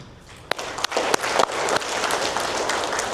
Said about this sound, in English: I would like to give a big round of applause to every single person in this hall